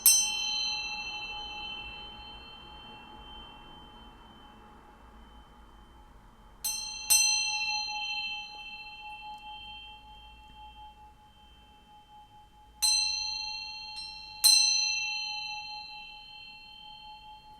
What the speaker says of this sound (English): I'm gonna ring this bell a few times and then we will get into it